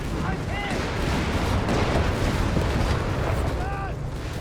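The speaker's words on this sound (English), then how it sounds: "Whizzbang barrage right into the massive Italian block" Whizzbang rocket artillery barrage in Company of Heroes 3 slamming into an Italian infantry block, a dense, continuous roar of blasts and rumbling impacts with a voice speaking over the barrage.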